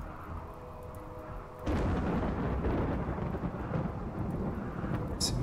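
A thunderstorm in RimWorld breaks into a sudden, loud, sustained roll of thunder that lasts several seconds after a quieter start.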